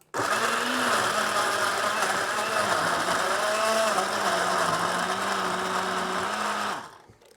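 A kitchen blender whirs steadily for several seconds, pureeing garlic, ginger, onion, fish sauce and anchovy sauce for homemade kimchi, its motor pitch wavering slightly before it cuts off at the end.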